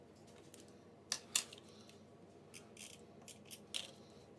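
Scissors snipping paper while cutting out pieces for a scrapbook layout, a few quiet sharp cuts in separate bursts, close and alone with no talking.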